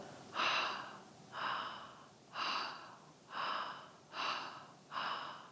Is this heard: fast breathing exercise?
yes